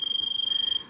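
A 555 timer beam-break alarm circuit drives a small speaker with a rapid, pulsing high-pitched electronic tone, about twenty quick even pulses in under a second before it cuts off, close and clear with no talking.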